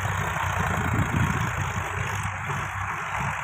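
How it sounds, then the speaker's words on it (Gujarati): A tractor engine runs steadily while the vehicle turns, a continuous low rumbling drone at close range with no pauses and no voices. "આમ વાળવાનું હોય ટ્રેક્ટર"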